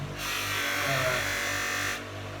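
A polishing wheel buffing the plastic ferrules of golf clubs, a steady high whirring drone that rises for about two seconds and then cuts back to a quiet hum.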